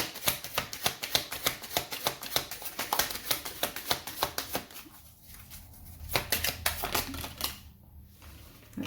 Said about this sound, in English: I'm going to put those back and shuffle again.